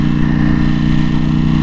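Ducati Panigale V4S 2021 motorcycle engine idling close by, a loud, steady low rumble with a throbbing, even pulse and no talking.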